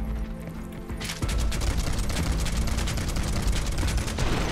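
Gunfire shooting down a rock in the video game Final Fantasy VII Rebirth, a loud, dense volley of rapid shots that starts abruptly and runs continuously over a booming in-game background.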